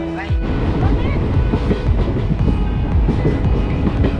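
Steady clattering rumble of a train rolling along the tracks in Tripura, India, loud and continuous, with rhythmic clicks from the wheels running through.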